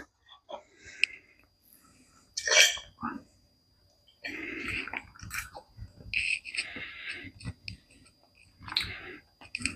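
Close, quiet mouth sounds of someone chewing a bite of carnivore quiche, with wet smacks, clicks and swallowing in irregular bursts separated by short silences.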